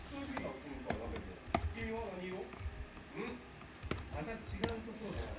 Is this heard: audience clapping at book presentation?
no